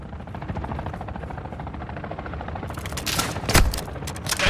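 Rapid automatic gunfire in Call of Duty Warzone 2.0, a dense rattling stream of shots over a steady rotor-like drone, growing sharper and louder toward the end.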